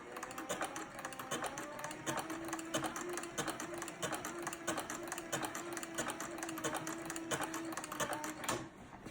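A Cobra 4 sewing machine stitches leather in a steady, rapid mechanical clatter, running continuously at close range with a faint hum beneath, then stopping abruptly near the end.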